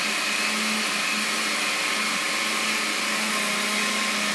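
A blender runs on high speed mixing a creamy cannabis smoothie, a loud, unbroken motor whine with a steady buzzing drone and no pauses.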